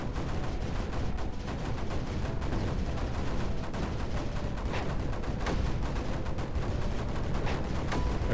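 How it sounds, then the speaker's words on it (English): Mortar fire from the strategy game Creeper World 4 booms and crackles in dense, overlapping bursts as mortars shell a target, with continuous explosive rumble and no voices. "I'll get a couple of mortars. I'm just gonna start shelling that one slowly."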